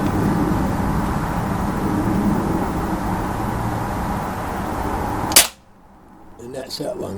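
A Beeman 1357 air pistol fires at matchsticks, one sharp, loud crack breaking through steady background noise before everything drops to near quiet.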